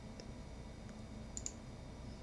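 A few sharp computer mouse clicks during video editing, two close together near the end over a quiet room background with low hum.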